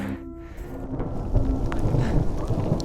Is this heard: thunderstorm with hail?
yes